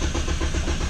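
The big-block engine of a car called 2Sexy, running with a loud, dense, unbroken rumble and hiss heard up close for a single second.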